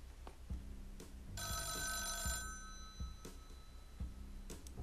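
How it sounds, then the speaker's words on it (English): A telephone rings in the Rogue State strategy game, a single bright electronic ring lasting about a second amid quiet background thumps and clicks, with no talking. "Well, first we have to answer the phone."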